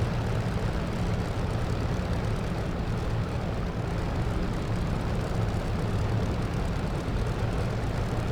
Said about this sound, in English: Align the aircraft down the middle of the runway and stop.